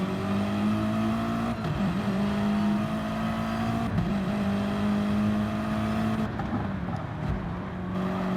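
BMW and Porsche race cars in a sim racing endurance replay at Autopolis, engines droning loud and steady throughout with pitch dips and rises as gears shift, no talking.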